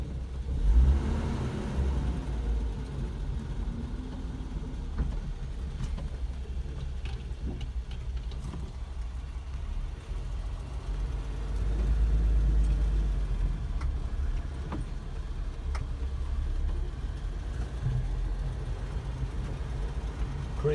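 A Toyota Land Cruiser 45 with a 2F engine, prone to stalling, drives around a paddock. A steady, low engine rumble runs throughout with a slight swell partway through, and no one speaks.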